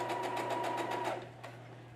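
A sewing machine runs a fast, even stitch across mask fabric with yarn tucked into the fold, chattering steadily up close before slowing near the end.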